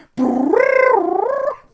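A voice imitates a loud, drawn-out fart, a buzzy rising and wavering tone lasting over a second, close and alone.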